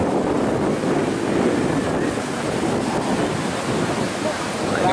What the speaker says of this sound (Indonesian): ini untuk kondisi ombak cukup lumayan gede ya